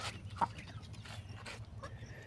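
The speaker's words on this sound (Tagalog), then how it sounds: "sa mga alaga natin manok dito" Farm chickens clucking softly at a distance, with one brief sharper cluck and a low ambient hum in the background.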